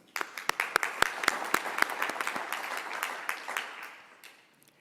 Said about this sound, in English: A big applause and a thank you to them.